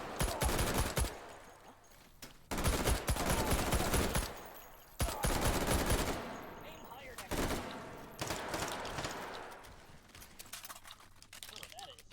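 Heavy machine gun fire in a video game match, loud sustained bursts of rapid automatic shots in several long volleys separated by short pauses, with a voice talking over them.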